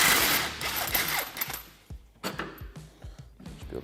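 Socket wrench working loose the tie rod end nut on a Polaris RZR XP Turbo, rapid clicking ratchet strokes in short uneven bursts, close and fairly quiet, with metallic ticks between them.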